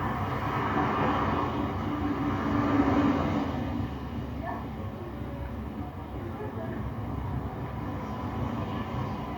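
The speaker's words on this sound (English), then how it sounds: "There's a 508 Lakeshore. That streetcar is going all the way to Long Branch." A Toronto 508 Lakeshore streetcar rolls past with a steady mid-level rumble and rail noise, swelling briefly then easing, with traffic-like background throughout.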